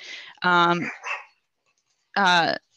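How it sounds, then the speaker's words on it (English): A dog barks in loud, close bursts indoors at a home, a short cluster of barks followed by a pause and another bark, with no talk over it. "I'm working from home and my dog's barking"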